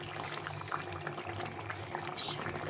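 A pot of vegetable curry with pointed gourd bubbles steadily at a rolling boil, a close, continuous wet burble with small pops and no voices.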